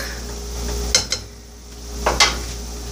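Asian vegetables stir-fry in oil in a pan: two short clattering bursts of the utensil against the pan stand out over a faint background hum and low sizzle.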